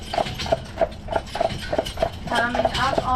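Hooves of a very tall carriage horse, 19 hands high, clip-clop in a steady, even rhythm of about ten strikes while pulling a tour carriage through Stanley Park in Vancouver, with a voice talking faintly underneath.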